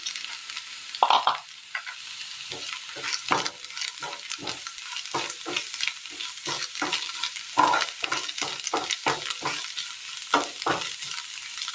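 Onion and spinach fry in a pan for a Kerala penne recipe, a steady close sizzle with repeated stirring scrapes and clatters at an irregular rhythm, no voices.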